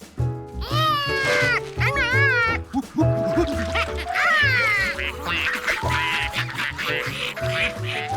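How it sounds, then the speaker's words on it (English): Ducks quack repeatedly in loud, overlapping bursts, with a steady low hum running underneath throughout. "Feed the ducks."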